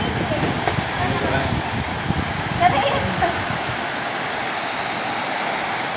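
Heavy rain from Typhoon Kristine in Batangas pours steadily over rushing floodwater, a continuous close hiss and splash with brief louder splashes midway, and voices talking over it.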